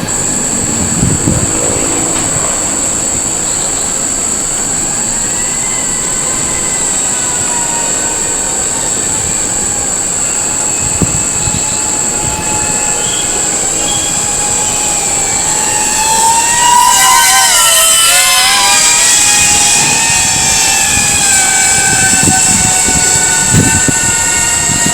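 A Speedybee Bee35 FPV drone's high-pitched motor whine drones steadily throughout in light drizzle, its pitch sweeping up and down, then surging louder near the end as if passing close.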